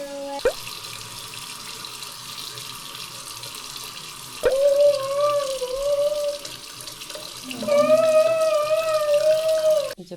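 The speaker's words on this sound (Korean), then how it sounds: "봉그리가 스스로 샤워를 하는 날이 다 왔습니다" A shower runs in a hotel bathroom in Vienna, Austria, where a child washes herself. The water starts and stops in bursts with a steady hiss and a faint whistling pipe tone.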